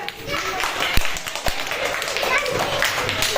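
Young children clapping during a classroom book-balance walking game: a few scattered sharp claps under lively voices and general chatter.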